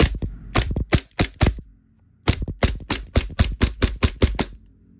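WE M92 Beretta gas blowback airsoft pistol firing about eighteen sharp, close cracks in two quick strings of shots with a brief pause between them.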